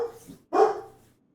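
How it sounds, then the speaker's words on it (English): A dog barks twice indoors nearby, a softer yip followed by a louder, fuller bark, with quiet room tone and no talking. "Sorry, my dogs are barking."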